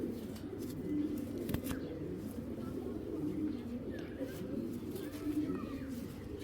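Imported Belgian and Dutch racing pigeons coo softly and repeatedly nearby, low throaty calls overlapping in a steady murmur with a few brief knocks and rustles.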